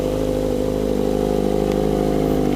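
Up close, a Kawasaki ZX25R sport bike with a fresh short exhaust sits at idle, its high-revving four-cylinder buzz loud and constant with slight wavering and no voices over it.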